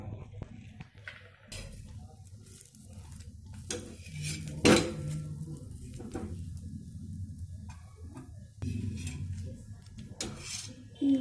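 A metal pan for cooking kulcha is set onto a gas stove, giving scattered clanks and scrapes of cookware, one sharp knock partway through, over a low kitchen background.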